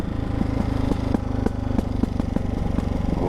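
A Ducati Hypermotard 698 Mono single-cylinder with a Termignoni exhaust pulls hard under throttle, a loud, close, rapid thumping exhaust note with regular sharp pulses throughout.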